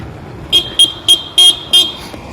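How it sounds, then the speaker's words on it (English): A delivery driver's vehicle horn honks five times in short, evenly spaced bursts, fairly close and loud over low road rumble, with no talk. "Dude, he was honking."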